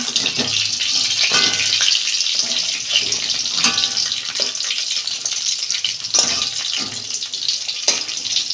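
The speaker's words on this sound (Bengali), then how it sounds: "দেখুন বন্ধুরা, পটলগুলো আমি উল্টে দিচ্ছি" Stuffed pointed gourds fry over a low gas flame with a loud, continuous close sizzle, broken by sharp knocks and clatters as the pieces are flipped in the pan.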